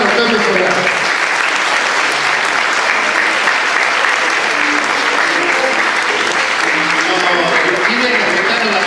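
A large audience at a tango orchestra show applauds strongly, a loud, unbroken roar of clapping from a crowd with faint background voices and tones blending in throughout.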